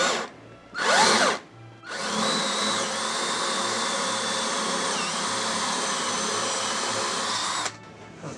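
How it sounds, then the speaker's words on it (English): A power drill bores through a laminate top on a freeze dryer cart, starting with two short bursts and then running as a steady high whine for several seconds before cutting off. "I drill through it, hopefully it won't chip out."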